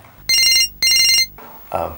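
A phone rings with an incoming call, giving two loud electronic ringtone bursts in quick succession, followed by a brief rustle.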